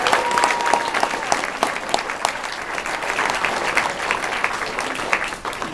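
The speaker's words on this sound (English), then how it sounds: "give yourselves a round of applause for not letting the rain and the bad weather stop you" Crowd applause at an outdoor Day of Action rally in Boston on a rainy morning, steady dense clapping with scattered sharp claps throughout, fairly close and sustained, with a faint voice under it.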